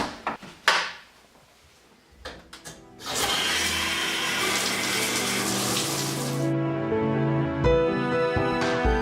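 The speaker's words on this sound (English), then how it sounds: "I'm gonna take a shower." A few clicks and clunks of handles come first, then water gushes from a tap into a tub in a steady loud hiss that later shifts to a lighter trickle with squeaky tones.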